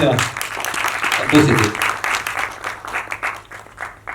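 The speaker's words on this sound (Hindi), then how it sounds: "जरा जोरदार ताली हो जाए प्लीज।" An audience at a Hindi film trailer launch breaks into applause, a dense burst of clapping that swells early then gradually thins into scattered claps, with a host's voice speaking over it.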